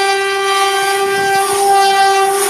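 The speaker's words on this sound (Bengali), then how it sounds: "ট্রেন চলতে শুরু করেছে।" A train's horn blares a loud, sustained tone close by as the train begins to pull away, with faint rail rumble underneath.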